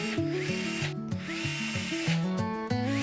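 A power drill drives screws into a bracket on an EraSmart A2 UV DTF desktop printer, giving several short, whirring bursts that rise and fall in pitch and are heard up close with no talk.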